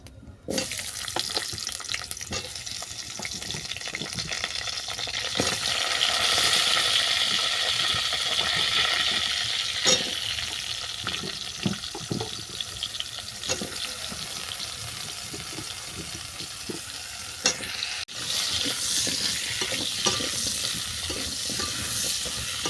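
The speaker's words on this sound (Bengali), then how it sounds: "নেড়ে চেড়ে সবজিগুলো ভালো করে ভেজে নিচ্ছি" Vegetables for a bethua-greens-stalk chorchori frying and being stirred in a pan, a loud, continuous hiss and sizzle with irregular scrapes and clinks of the spatula throughout.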